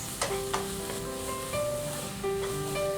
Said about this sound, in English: To this we'll add some capsicum and saute on a medium flame for 1 minute